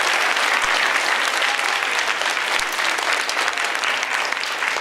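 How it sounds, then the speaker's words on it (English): An audience applauds the Sandy Hook Promise organization at a school assembly, with steady, dense clapping that holds at an even loudness throughout. "let's give the Sandy Hook Promise organization a wonderful round of applause"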